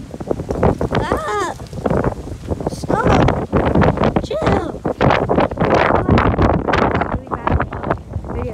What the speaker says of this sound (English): It's really cold over here. You can tell. Really windy.